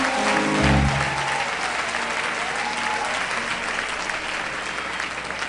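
A church congregation breaks into applause, a dense wash of clapping that swells at the start and continues steadily, with a voice briefly heard at the opening.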